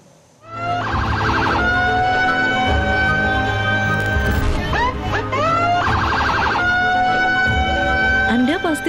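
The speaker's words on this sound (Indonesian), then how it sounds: "Namun rupanya suara sirine atau strobo ini menuai protes dari banyak warga." A loud emergency siren wails and yelps continuously, switching between sweeping and rapid warbling patterns, close by with no talking.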